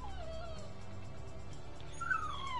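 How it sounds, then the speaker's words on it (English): In the background a dog whimpers and yips with thin, high whines, fairly faint beneath a steady room hum. "If you had a dog in the background, just ignore it, I guess."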